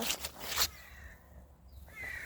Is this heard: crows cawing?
yes